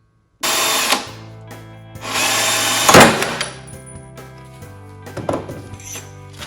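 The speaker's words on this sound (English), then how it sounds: "use a smaller size drill to maybe find the center first and then go to the actual size" A power drill bores into a broken brake caliper guide pin on a BMW X5 E70, whining in two bursts of metal grinding with a sharp clank between, followed by lower ringing tool noises.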